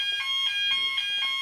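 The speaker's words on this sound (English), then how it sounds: "That's the fire alarm" A fire alarm sounds in rapid, regular pulsing beeps, loud and insistent, with a sustained high tone running through it and no voices.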